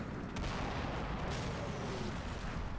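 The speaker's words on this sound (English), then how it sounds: "Here comes the mortars." Mortar fire in the WWII Normandy wargame Combat Mission Battle for Normandy: a dense, continuous roll of distant explosions and booming impacts, sustained and fairly loud throughout, with no voices.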